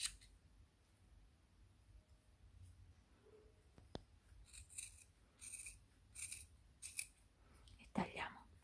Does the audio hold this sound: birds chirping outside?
no